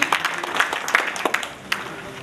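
Applause rises and falls at a fundraising event, a dense patter of many hands clapping with a few sharper bursts standing out over about two seconds.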